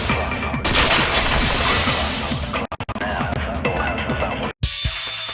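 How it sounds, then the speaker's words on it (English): A vase shatters in a Danganronpa 2 trial scene: a loud burst of breaking ceramic and scattering shards, with a few abrupt cutoffs and a brief gap before the crash ends. "If it wasn't the window, then what broke to make that sound? A vase."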